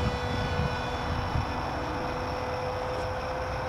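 A radio-controlled model airplane, a Sabre-style jet, drones steadily overhead at a moderate distance, a continuous engine whine with a fixed tone and no break.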